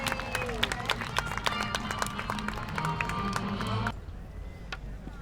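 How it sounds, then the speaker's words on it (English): Crowd at an outdoor county show applauding the winner of a Shetland pony race, a spread-out patter of claps over murmuring voices, ending abruptly after about four seconds. "Give her a round of applause."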